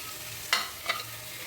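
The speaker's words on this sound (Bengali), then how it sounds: "এবার আমি এই ভাজা মাছগুলো আমি এইখানে ছেড়ে দিলাম" Fried parshe fish slide into hot oil and spices in a pan, giving two short sizzling bursts with a stirring scrape over a quiet kitchen background.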